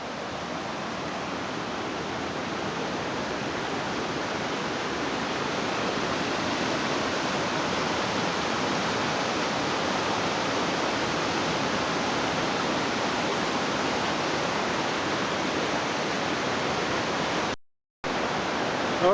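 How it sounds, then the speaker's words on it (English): Lagoon Creek Falls in the Blue Mountains near Bilpin roars as a dense, steady rush of falling water, loud and close from a spot right beside the falls, cutting out briefly near the end. "I managed to get pretty much smack bang in the middle of the waterfall"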